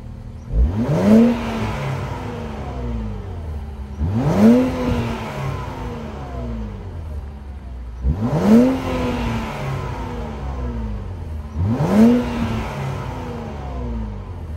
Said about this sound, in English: We are under the hood of this 2023 Q60 Sports Coupe, and we got a twin turbo V6.